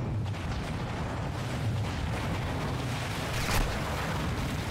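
Call of Duty Modern Warfare 2 campaign firefight: dense, continuous rumbling gunfire and booms, loud and unbroken, with no talk.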